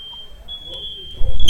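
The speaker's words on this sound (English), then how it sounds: "Fire alarm." Steady high-pitched electronic tone of a fire alarm going off, a continuous piercing beep held throughout, with a brief thump near the end and no talk.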